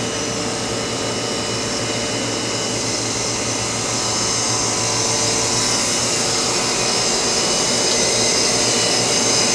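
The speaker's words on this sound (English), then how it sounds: "Here's the rough pump and the backing pump for the turbo. It's an Edwards IQDP 40." An Edwards IQDP 40 rough pump backing a turbo pump on an Oxford Plasmalab 80 Plus RIE etching system gives off a loud, steady, close roar with a broad hiss and a low hum.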